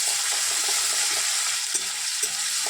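Chopped onion and garlic paste frying in a pan with black cumin seeds, a loud, steady sizzle close up, with a few soft stirring scrapes and no voices.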